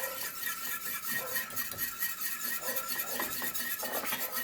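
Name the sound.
whisking milk into a thickening sauce in a pot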